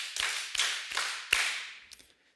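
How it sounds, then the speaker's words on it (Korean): A group of people clapping five times in unison, each clap a crisp, fairly loud burst with a short decay, the last one quieter. "박수 5번. 시작."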